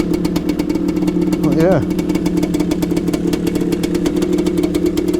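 A Suzuki TS125X two-stroke motorcycle engine idles steadily nearby with a rapid popping rhythm, running on pre-mixed two-stroke fuel, while someone talks briefly over it.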